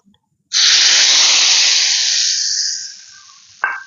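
Hot oil tempering (bagar) is poured into a wok. A loud, sudden burst of sizzling hiss starts close up and slowly fades over about three seconds, followed by a single sharp metallic clank.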